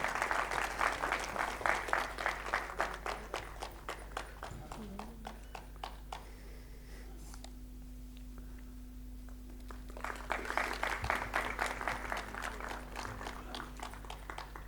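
Audience applause at a lecture in Panvel, steady clapping that fades out midway and then swells back, heard faintly.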